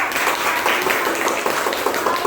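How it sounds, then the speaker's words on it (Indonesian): Classroom applause for a student group after their presentation, a steady broad wash of clapping filling the whole moment at fairly even loudness with no voices over it. "Kita berikan aplaus untuk kelompok 2"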